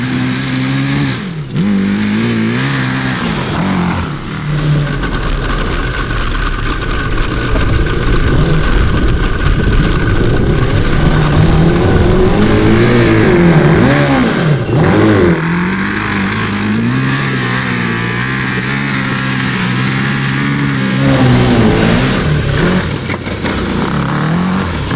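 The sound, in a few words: 750cc cross kart engine revving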